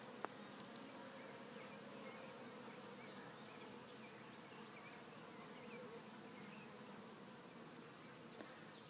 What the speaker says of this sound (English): Bees, bees, busy bees.